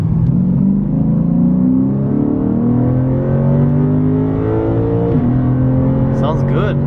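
A stock-exhaust Lexus RC F V8 pulls hard from inside the cabin, its loud engine note climbing steadily through one long gear before a brief shift dip, then settling; a voice speaks briefly near the end.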